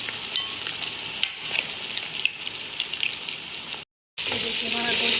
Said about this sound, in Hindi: ये देखिए, हमारा गोश्त फ्राई हो चुका है।